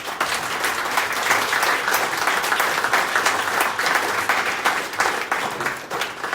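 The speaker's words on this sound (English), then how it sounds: "I would like to ask the audience to have a round of applause." An audience at a blockchain talk-and-trade meetup in Vilnius gives a steady, full round of applause, dense clapping sustained throughout with no voices over it.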